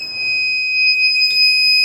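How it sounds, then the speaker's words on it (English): A loud, steady high-pitched electronic buzzer tone from an Arduino UNO RFID alarm sounds continuously for an unauthorized user, close and piercing, with no speech. "unauthorized user and buzzer is also making sound"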